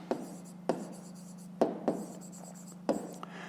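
A pen writes on paper during a fifth-grade maths exercise. Several sharp taps and short scratchy strokes come close-up and faint over a low steady hum, with no talk.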